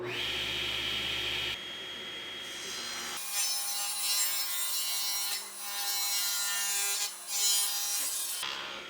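Weathered barnwood boards are sawn by hand in a run of steady rasping strokes, close and fairly loud, with brief pauses between passes and a tonal ringing layered over the cuts.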